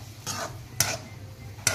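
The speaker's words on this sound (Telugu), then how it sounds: "మొత్తం వేసేసి బాగా కలిపేసి" Bottle gourd pieces stirred into curry in a pan: three short scraping strokes of a spoon against the pan over a low sizzle, close and fairly soft.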